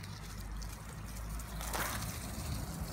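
Water is poured around the base of a newly planted euonymus in a garden during a dry spell. The splashing and trickling stays soft and continuous with a brief louder gush.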